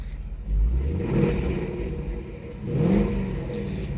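Active exhaust on a 2021 Roush Stage 3 Mustang rated around 750 hp gives a deep, rumbling rev that swells twice, once early and again near the end, over a low idle in between.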